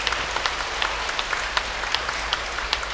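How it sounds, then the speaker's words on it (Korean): A parish audience in a Catholic church hall gives moderate applause, a steady patter of clapping with a few sharper individual claps standing out from the crowd. "다시 한번 그래도 큰 박수 부탁드리고요"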